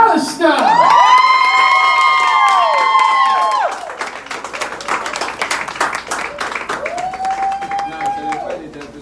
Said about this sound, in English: stand to your feet and give a round of applause to the author of Real Talk, Brandy McAllister